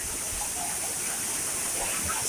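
The huge waterfall at Kodiveri roars as a dense, continuous hiss of falling water, close and loud, with no pause across the whole stretch.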